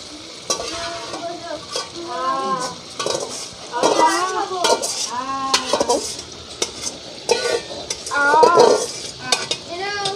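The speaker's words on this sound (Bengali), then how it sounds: "এবার চিকেনগুলো ওর মধ্যে দিয়ে দিচ্ছে" Marinated chicken sizzles in a hot pan while a utensil stirs and scrapes repeatedly, with voices chattering in the background.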